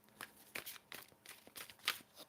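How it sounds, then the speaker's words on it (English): Tarot cards being shuffled by hand, a series of soft papery riffles and slaps in an irregular rhythm, close and fairly quiet with no talking. "One shuffle, let's see."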